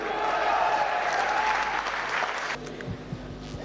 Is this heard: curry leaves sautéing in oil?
no